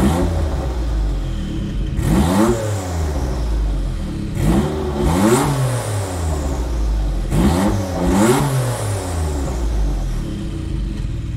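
Jaguar XJ220 engine in Gran Turismo 7 revving hard three times, each rise climbing to a high whine with a whistle behind it before dropping back to a steady idle, loud and close with no talking.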